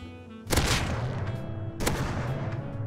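Two loud, booming blasts from a double-barrel shotgun in the survival game Rust, fired about 1.3 seconds apart, each with a sharp onset and a long rumbling tail over steady in-game background noise.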